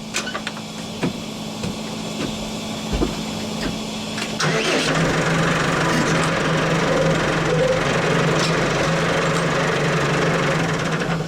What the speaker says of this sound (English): I'm doing it with the disc grinder